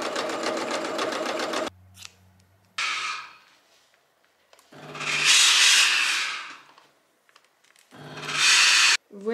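A sewing machine stitches winter jacket pieces sewn right sides together, running in three loud whirring bursts separated by quiet pauses and handling sounds.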